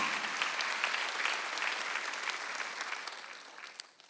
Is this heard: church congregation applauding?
yes